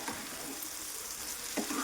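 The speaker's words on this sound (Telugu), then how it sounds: "ఇలా హై ఫ్లేమ్లో పెట్టుకొని కూడా ఫ్రై చేసుకోవచ్చు, మీడియం ఫ్లేమ్లోనైనా ఫ్రై చేసుకోవచ్చు" Cauliflower egg masala curry frying in a pan over a high flame, giving a steady close sizzle with stirring scrapes near the start and end.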